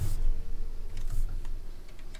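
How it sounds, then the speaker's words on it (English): A few sharp plastic clicks and ticks from a noisy game steering wheel controller rattle irregularly over a low steady hum, close and fairly quiet. "My steering wheel has been very noisy tonight."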